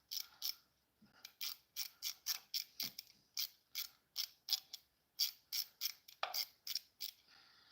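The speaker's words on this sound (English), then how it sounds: "I'm going to tighten all these down" A ratchet clicks in quick, repeated bursts while bolts are tightened on a Ford Focus ST EcoBoost during a timing chain replacement. The clicks are crisp, close and fairly quiet, with short pauses between strokes and no talk.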